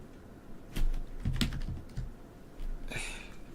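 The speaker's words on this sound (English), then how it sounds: "I keep typing things that I don't mean to type" Typing on a computer keyboard into a spreadsheet during a live game stream, heard as a few scattered, close, soft key clicks and clacks in short irregular bursts, without speech.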